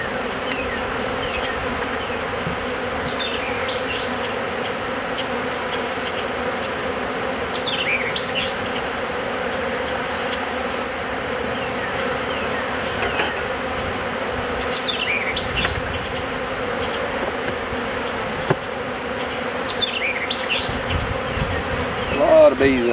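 A massive honey bee swarm hums steadily in a hive, a dense, close, continuous buzz with individual bees whining past now and then and no talking.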